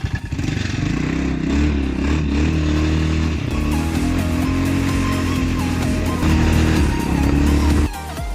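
An Apachi 4x2 shaft-drive ATV engine runs close by after a gear shift, a loud steady rumbling idle with rising and falling revs and some mechanical clatter, dipping briefly near the end.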